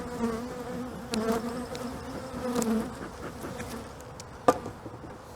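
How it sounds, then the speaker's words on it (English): Honeybees buzz in an opened hive during a spring inspection after winter, a close, dense droning hum that swells and fades, punctuated by a few light knocks and one sharp tap near the end. "the bees look fine for making it through winter in a very humid box"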